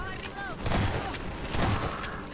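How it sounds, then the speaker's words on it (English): Rocket launcher battle in Half-Life 2: two heavy booming explosions roughly a second apart over constant combat rumble and whining mechanical tones, loud and near. "Looks like we're doing a rocket launcher battle."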